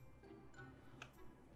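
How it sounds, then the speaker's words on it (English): A cat clock in the Minecraft video game ticks faintly and regularly over a low, steady background hum, with no talking. "Oh, that's a cat clock."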